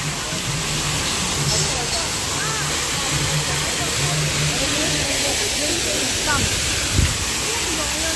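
Waterfall water pouring down at Malshej Ghat, a steady broadband rushing hiss that stays loud and constant throughout, with faint voices and a brief clatter underneath.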